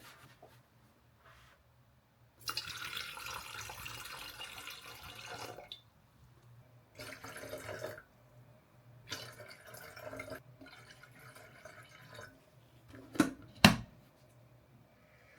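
Water running from a tap in quiet bursts, several separate stretches of steady hiss with pauses between them, faint and close, ending with a couple of sharp clicks.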